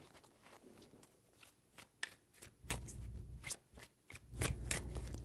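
Tarot cards being shuffled by hand, close and quiet, with a run of soft riffling flicks and slaps that grow busier and louder toward the end.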